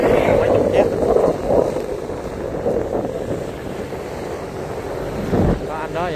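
Boats and barges motor along a busy canal, their engines a continuous low rumble mixed with water wash and heavy wind buffeting on the microphone, steady throughout with a brief louder thump near the end.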